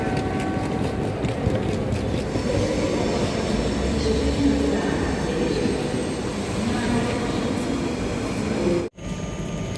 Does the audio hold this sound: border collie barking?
no